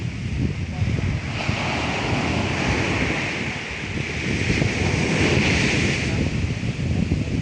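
Large ocean waves surging and breaking at sea beside fishing boats, a loud continuous roar with heavy wind buffeting the microphone throughout.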